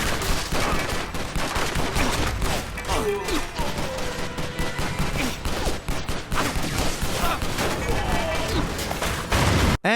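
Cartoonish video game shooter gunfire firing large energy pellet bullets, a dense, continuous barrage of rapid shots and booms throughout, loud and busy, with a voice talking over it.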